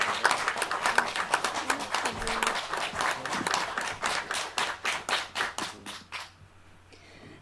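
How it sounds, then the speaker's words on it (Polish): An audience at a concert in a cultural centre claps for a soloist, a mix of sharp individual claps that thin out and fade into a few last claps and near quiet at the end. "Jeszcze raz poprosimy o wielkie brawa dla naszej solistki"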